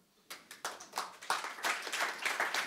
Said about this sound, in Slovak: No taký opatrný potlesk